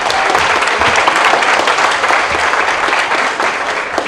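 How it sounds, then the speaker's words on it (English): Dense applause from a large crowd at a town commission swearing-in ceremony, steady and loud throughout with no pauses. "give yourself a round of applause"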